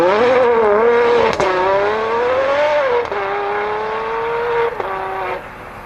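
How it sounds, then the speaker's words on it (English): A Ferrari 599 GTO V12 with straight-piped aftermarket exhaust launches hard, its loud rising howl climbing through sharp gear changes with brief dips between shifts, close and dominant. "Unreal aftermarket exhaust launch."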